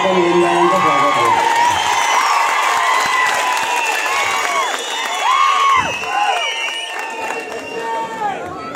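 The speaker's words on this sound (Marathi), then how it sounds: "जोरदार टाळ्या वाजवून आपण ओमराजेंचं स्वागत करू." Crowd at an outdoor election campaign rally in Barshi welcoming MP Omraje Nimbalkar with loud clapping, cheers and whoops, continuous and energetic, with voices shouting throughout.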